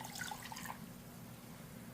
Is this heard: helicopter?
no